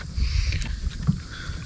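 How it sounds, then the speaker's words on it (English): Canoe dragged up onto a riverbank: a low, rough scraping rumble of hull over ground, steady and close for under two seconds with a brief bump near the end, wind brushing the microphone. "got the canoe pulled up here on the bank"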